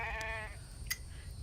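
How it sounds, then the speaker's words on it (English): A single sheep bleats loudly and close at a farm, one wavering harmonic call lasting about half a second, followed by quieter background sounds with no talk. "And that sheep's loud."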